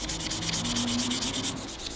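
Someone hand-sands a wooden knife handle with 320-grit sandpaper while making a folding knife, with close, quick back-and-forth rasping strokes in an even rhythm and no talking.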